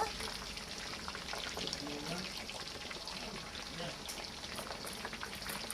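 Pork belly for crispy pork fries in hot oil with a constant dense crackling sizzle, close and even throughout, with speech faintly present underneath.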